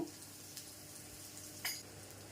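Whole spices sizzle softly in a pan over low gas, with a couple of brief scraping stirs standing out from the faint, steady frying hiss.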